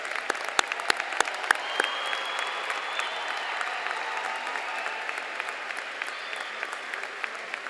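A graduation crowd at a 2015 high school ceremony breaks into sustained applause, dense and steady for several seconds, with a few sharper claps standing out near the start.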